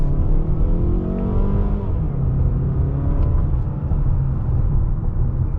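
A Mazda car accelerates with a steady, loud engine rumble and rising whir, the drone holding close and constant throughout with no talk.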